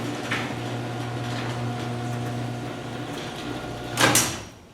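LiftMaster 8365 garage door opener closing a door, a steady motor hum and drone running throughout, ending in a louder rattling clunk as the door comes down.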